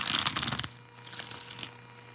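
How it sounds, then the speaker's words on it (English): A deck of tarot cards is shuffled up close, a quick crisp flurry of riffling snaps for well under a second, followed by softer rustling of the cards settling. "Let me just get a good shuffle, you guys."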